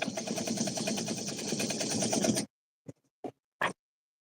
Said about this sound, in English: sew this down.